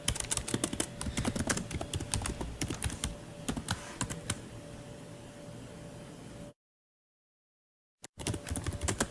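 Fingers type an email on a computer keyboard, a brisk, close run of clicks that thins out, stops for about two seconds of silence, then starts again.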